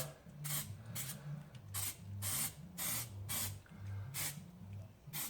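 Primer is sprayed onto the sill of a Jaguar XK8 in a series of short, rhythmic hissing bursts, about ten in all, fairly faint and close, over a low background hum.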